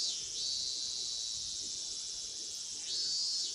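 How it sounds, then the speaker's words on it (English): Cicadas chirping in a dense, steady high-pitched drone during a Higurashi visual novel scene, continuous and fairly loud throughout with slight swells at the start and end, no voices. "I stayed there alone, my body bathed in the lively voices of cicadas."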